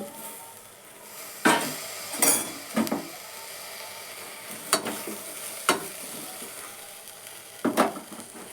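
Tomatoes are added to a pan as a Kannada sprouted horse gram curry cooks: a low frying sizzle runs throughout, broken by several sharp scraping stirs and utensil knocks, close by with no talk.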